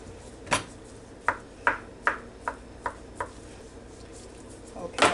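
Crabmeat rangoon filling being chopped by hand: a series of about seven crisp knife strikes on a cutting board, evenly spaced and close up, with a final clatter at the end.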